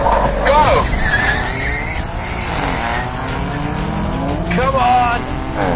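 Tires squeal loudly as an Audi RS5 and a BMW M2 launch side by side in a drag race, with skidding bursts at the start and again near the end over revving engines.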